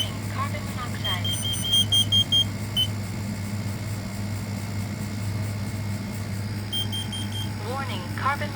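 A smoke and carbon monoxide alarm sounds during a system test, giving sharp repeated electronic beeps in short bursts near the start and again near the end, with an electronic voice and a low steady hum beneath.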